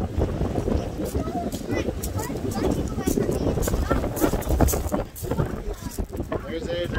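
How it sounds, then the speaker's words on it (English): Strong wind gusting outdoors on the shore of Lake Superior, a constant loud broadband rush buffeting the microphone, with gulls and voices faintly mixed in throughout. "It's so windy out right now."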